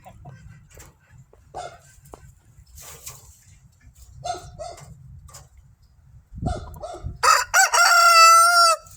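A backyard rooster lets out a loud, close crow near the end, after scattered soft clucks and quiet rustling in the coop.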